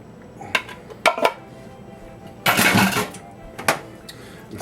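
A spoon stirs canned tomatoes in a pot for cannelloni sauce, giving a few separate clanks against the metal and one longer scraping swirl in the middle, close and fairly loud against quiet surroundings.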